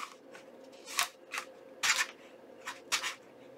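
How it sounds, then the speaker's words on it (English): Several crisp scissor snips cut through paper, about six short crunchy cuts spaced unevenly, close and fairly quiet against a soft background. "I am going to take my scissors and I'm just going to cut right here"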